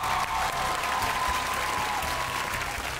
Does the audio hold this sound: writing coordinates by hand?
no